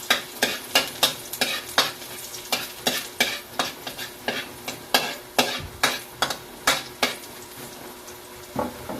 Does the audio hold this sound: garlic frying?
yes